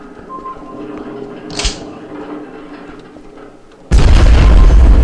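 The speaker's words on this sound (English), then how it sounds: "Never seen a bed that was lit on fire that could withstand rocket hits." Rocket explosions slam into a burning bed in the video game Outpost: Haven, one brief boom rising over a low ambient bed before a sudden loud, sustained roaring blast fills the end.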